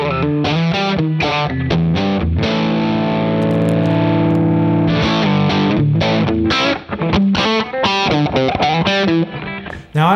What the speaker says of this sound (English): So let's do Plexi jump lead and let's see if we can get it to sound good.